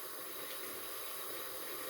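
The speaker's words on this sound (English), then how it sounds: "I can hear the sizzle of the oil." Oil sizzling in a pan while cooking moong dal, a faint, steady, hissing crackle that holds evenly without pause.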